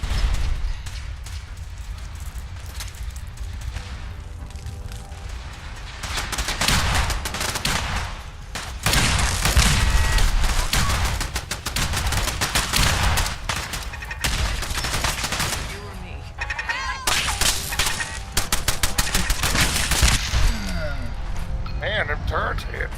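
Automated turrets fire in Fallout 4, loud bursts of rapid gunfire that come in repeated volleys with brief lulls and heavy impacts, sustained and close throughout.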